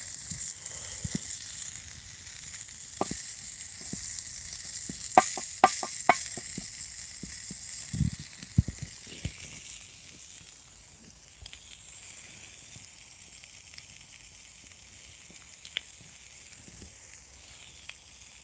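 A steady frying sizzle hisses throughout, dotted with sharp crackles and pops that cluster in the middle before the hiss settles back down.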